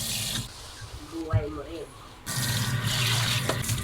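Tap water gushes over an electric pot being rinsed at a sink, the flow cutting off briefly while someone speaks, then resuming as a loud, even spray.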